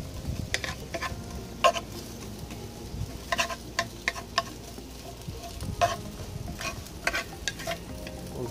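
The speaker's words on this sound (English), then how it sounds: "Just gonna saute these a little bit." Celery and other vegetables sauté in a Dutch oven that is not very hot, giving a continuous gentle sizzle with repeated sharp clicks and scrapes of stirring, close and fairly quiet.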